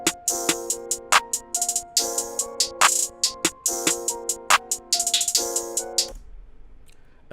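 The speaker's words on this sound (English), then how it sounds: "you'll hear the open hi-hat basically, hit on every fourth note." A programmed FL Studio beat plays claps and crisp hi-hats with an open hi-hat on every fourth note, a tight repeating pattern over sustained synth tones that cuts off near the end.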